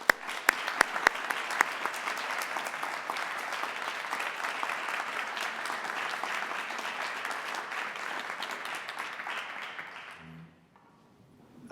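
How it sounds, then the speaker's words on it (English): Audience applause after a Colorado Symphony Orchestra performance: a sustained, dense wash of clapping from a large seated crowd, steady throughout, then tapering off abruptly near the end. "So another round of applause."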